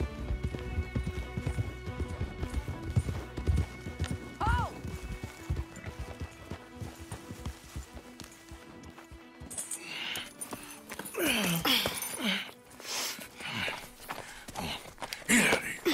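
Horse hooves clip-clop at a steady walking-to-running pace in the Arthur chapter of a video game, accompanied by a neigh and mixed with in-game voices and background music.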